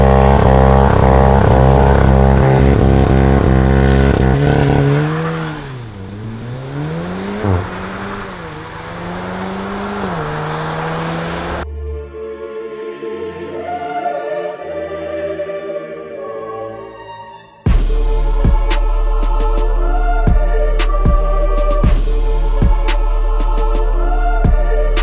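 A 2019 SEAT Leon Cupra hot hatch drives hard, its engine revving and shifting through gears with rising and falling tones, then settling into a steady loud drone; no talking.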